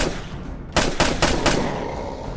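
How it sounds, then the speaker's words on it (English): Unsilenced gunfire from the video game State of Decay: four sharp, loud shots in quick succession, each leaving a ringing tail, with no talking. "I just realized I've been shooting without a silencer on it"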